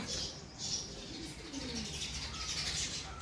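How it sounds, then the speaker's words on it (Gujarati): Sparrows chirp in quick, bright bursts against a soft outdoor background, with a few cooing calls mixed in; no one speaks. "અહીંયા બહાર ચકલીઓ જોઈ શકો છો અવાજ કેટલો મસ્ત મજાનો આવી રહ્યો છે"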